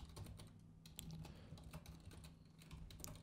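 Keys on a computer keyboard are tapped in quick, irregular clicks, faint and close, with no voices.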